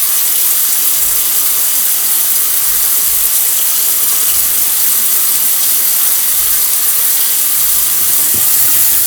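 Water runs steadily into a sink to fill the P-trap and flow down the drain, a loud continuous rushing hiss lasting throughout with no talking.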